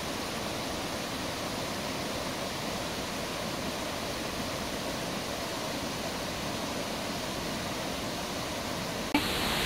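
Brahmanella waterfall on a stream near Neluwa and Lankagama in Sri Lanka pours in a steady, close, full roar of rushing water that holds even throughout, with no voices.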